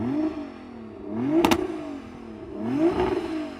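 A 1600-horsepower Nissan GT-R with an uprated exhaust gives two quick rev blips, each rising and falling, with a sharp crackle at the first peak, heard close up.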